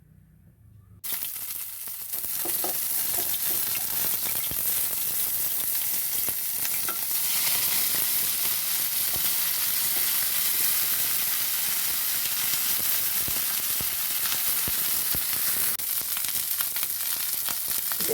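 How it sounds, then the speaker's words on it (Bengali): Eggplant sizzles steadily in hot oil in a wok, a loud continuous frying hiss with occasional stirring scrapes that begins after a brief quiet start and runs throughout with no talk. "দিয়ে বেগুনটা ভেজে নেবো।"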